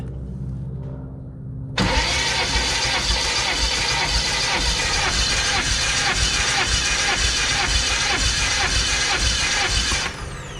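An aircraft engine cranking over during a compression test, starting abruptly after a quiet moment and holding a loud, steady, rhythmic churning for about eight seconds before cutting off, close up.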